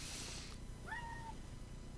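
A cat gives a single short meow midway through, fairly faint against a steady indoor background hiss, with no talking.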